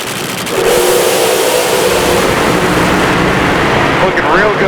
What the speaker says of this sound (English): Two just pounding top fuel dragsters here.